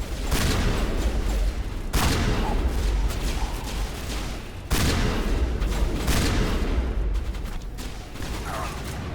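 Shotgun blasts from the Mass Effect 1 Legendary Edition shooter sound out as loud, sharp booming bursts, roughly three big hits spaced a couple of seconds apart over dense continuous combat noise.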